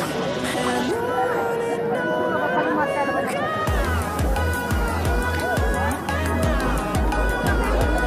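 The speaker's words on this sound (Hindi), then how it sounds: "बहुत ज़्यादा भीड़ यहाँ पे," Dense crowd chatter fills a busy vegetable market in Nawalsahi, a steady babble of many voices with vendors calling out, joined midway by low rhythmic thumping music that runs underneath.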